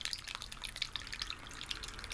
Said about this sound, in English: This one's a nice loud brooky sound.